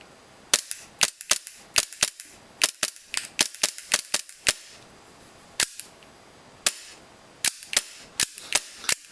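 A Tokyo Marui G17 airsoft pistol, a Caspian Glock build, fires a long series of sharp, crisp snapping shots. They come in quick bursts with short pauses, loud and close, with no talking.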